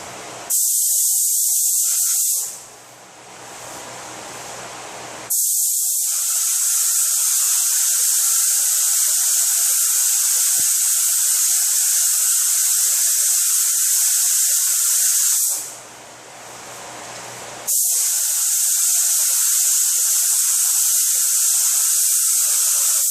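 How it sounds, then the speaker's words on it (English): Adhesion promoter is sprayed onto the panels of a 2013 Honda Accord in long, loud hissing bursts. Two short pauses break the hiss, filled by a quieter low hum, and no one speaks. "we're going to spray the adhesion promoter just on the top where the blend will be"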